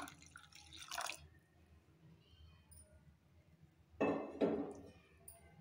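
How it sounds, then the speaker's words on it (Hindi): Plain water is poured into curdled milk while making homemade paneer, giving two short, quiet splashing bursts separated by a calm, near-silent pause. "अब इसमें हम नॉर्मल पानी डाल देंगे ताकि हमारा पनीर जो है वो टाइट ना हो।"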